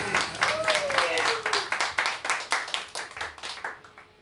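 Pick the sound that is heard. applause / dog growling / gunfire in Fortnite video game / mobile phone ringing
applause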